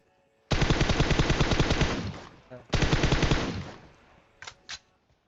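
Automatic gunfire in the mobile battle royale game PUBG Mobile: two long, loud rapid-fire bursts separated by a brief gap, followed by two short isolated shots, with no voices.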